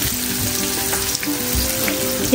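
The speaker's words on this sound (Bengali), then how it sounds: "চিলি চিকেনের সবজিটা মানে বেল পেপার, পেঁয়াজ আর রসুনটা ভাজা ভাজা হয়ে গেছে।" Bell pepper, onion and garlic fry for chilli chicken in a pan, a close, constant crackling sizzle that carries on evenly with no talk over it.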